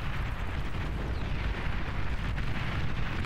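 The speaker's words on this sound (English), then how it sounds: "The plasma cannons are still firing." Plasma cannons and large units trade fire in a huge battle in the real-time strategy game BAR, a constant dense roar of overlapping booms and explosions with no pauses.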